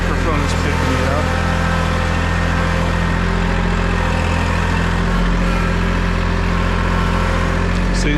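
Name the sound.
V6 engine running at lower RPM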